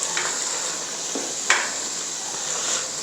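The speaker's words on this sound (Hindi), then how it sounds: "इन चीज़ों को अच्छे से करेंगे मिक्स।" Ingredients for a coarse, thick chicken gravy being stirred together in a pan, with a soft continuous sizzle and a few light scrapes and taps of a utensil against the metal, close and fairly quiet.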